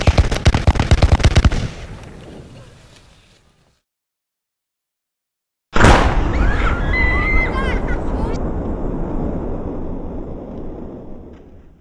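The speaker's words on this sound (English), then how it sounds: "Heavy firing broke out on both sides, and neither side gaining any advantage." Heavy gunfire at the Civil War Battle of Chickamauga, a dense burst of rapid shots up front, then a pause before a loud, sustained roar of battle noise with scattered higher whistling sounds.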